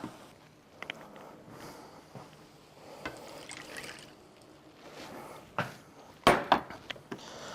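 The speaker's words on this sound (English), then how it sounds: "And then we're going to add a cup of water." A cup of water poured into a skillet of whole wheat pasta, soft splashing and trickling that swells into a short louder pour near the end, close and quiet.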